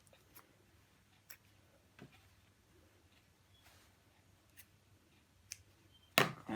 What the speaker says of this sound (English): Cut down those threads.